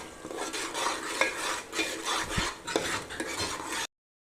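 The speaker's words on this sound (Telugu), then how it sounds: "ఇంకా ఆనియన్ బ్రౌన్ అయ్యే వరకు ఫ్రై చేయాలి ఆయిల్లో." A spoon stirs onion paste frying in oil with curry leaves, making close scraping strokes against the pan at an uneven rhythm over a soft, steady sizzle, with no one speaking.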